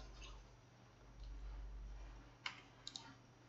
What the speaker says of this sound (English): So you will have to press L button on your keyboard.